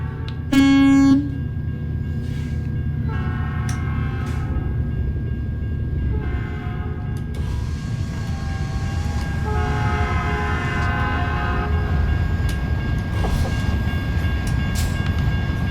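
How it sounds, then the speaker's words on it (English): A slow-moving train rumbles past in the trucking game American Truck Simulator in Louisiana, a low continuous rolling drone with a brief loud horn blast near the start and faint clanks throughout. "That is a slow-moving train."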